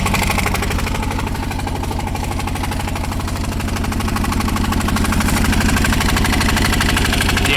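A Polaris 455 diesel engine on a barn-find machine runs steadily and loud close by, its fast rough knocking pulse carrying heavy vibration from a worn engine mount.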